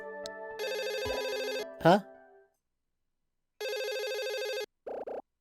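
A telephone rings in the video game Another Code: R, an electronic ring in two long bursts separated by silence, with a short voiced interjection between them and a brief clipped tone at the end.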